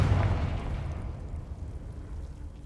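Confringo fire-spell explosion in Hogwarts Legacy: one deep, booming blast up front, then a rumbling decay that trails off over a couple of seconds, with no talking.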